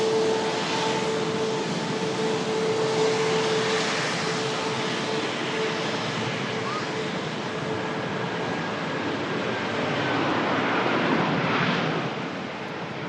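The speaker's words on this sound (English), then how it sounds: "One A350, 2 A350s, and another one just on the way out there." Airbus A350 airliners taxi out at an airport, sending a distant, steady jet-engine roar with a faint high whine over a broad rushing wash. No one speaks.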